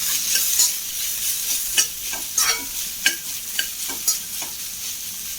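A spoon stirs crushed fennel and ginger in a hot curry pan for egg kurma, giving a steady sizzling hiss broken by repeated scraping strokes, close and clear with no voices.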